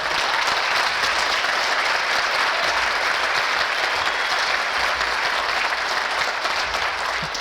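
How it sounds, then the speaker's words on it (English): Audience applause for the volunteers of a college radio station at Northwest Michigan College, a dense, steady roar of clapping that stays loud and even throughout with no voices over it. "let's have a round of applause for all the volunteers who help"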